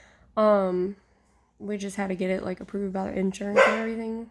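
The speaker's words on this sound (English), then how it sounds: "Sorry, that was my dog barking." A pet dog barks at home, with short harmonic yelps sounding near the start and again among the talk, while someone speaks over most of the clip.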